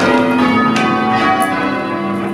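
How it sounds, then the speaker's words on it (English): A large church bell rings loudly nearby, its rich, sustained tone humming and slowly fading, with no voices. "especially like ringing my dad's bell"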